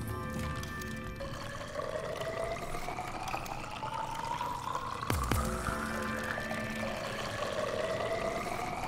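A water bottle filling in the game Subnautica: a steady pouring, gurgling stream whose pitch climbs as the bottle fills, with a brief splashy knock partway through, heard alone without talk.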